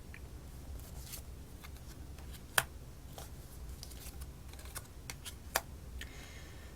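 Tarot cards handled on a table during a reading, with soft shuffling and light crisp taps and flicks at an irregular pace, quiet and close, with no talk.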